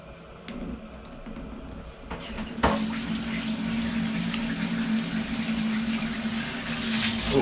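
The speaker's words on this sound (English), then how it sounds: "Now to fill it up with hot water." Hot water runs steadily from a tap into a bathtub in a new hotel room in Esaka, near Shin-Osaka, a continuous rushing, splashing fill that starts with a clunk and stays loud throughout.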